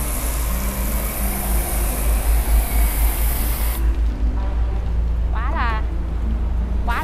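Pressure-washer water spray blasting a raised semi-truck hood at close range, a loud continuous hissing roar that suddenly drops to a softer spatter as a voice speaks briefly near the end.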